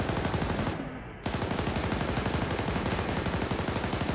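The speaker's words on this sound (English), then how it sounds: "Shots are falling short." Sustained automatic machine gun fire in the video game Arma 3, a dense rapid stream of shots with a brief pause near the start, loud and continuous throughout.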